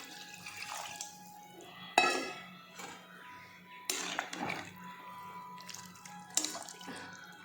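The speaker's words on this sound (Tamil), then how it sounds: "6 உலக்கு தண்ணி ஊற்றிக்கலாம்." Measured water poured into a pressure cooker for Kongu-style mutton biryani, a splashing, running stream in several bursts with short pauses, close and moderately loud, no talk.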